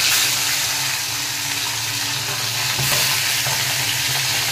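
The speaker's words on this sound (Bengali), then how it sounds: "মাছগুলোকে আস্তে আস্তে ভেজে নেব" Pomfret fish frying in hot oil in a wok, a steady dense sizzle filling the whole stretch, close and fairly loud, with no voices.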